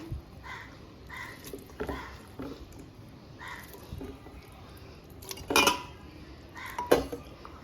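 Meat and bones dropped into a pressure cooker for a Kottayam-style bone and tapioca dish, a few clanking metal knocks and clinks of the pot at close range, with no speech.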